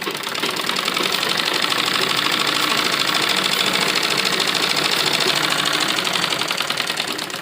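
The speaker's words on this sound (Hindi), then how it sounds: "फिटिंग के निशान लगाए थे उसी पर हम सिलाई लगाएंगे।" A sewing machine stitches a blouse along its fitting marks, a steady close rapid rattle and whir that runs unbroken and loud the whole time.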